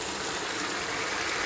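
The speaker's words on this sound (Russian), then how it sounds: "заливаем обязательно горячей водой, либо кипятком" Hot or boiling water pours steadily over rice for Uzbek plov, making a continuous close gushing rush through the whole short stretch, with no voices.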